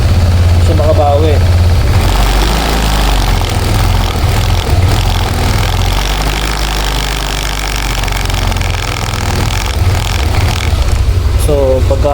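A Yamaha Nmax V1 scooter engine idles steadily with a loud, continuous low rumble, and a voice briefly cuts in near the start and the end.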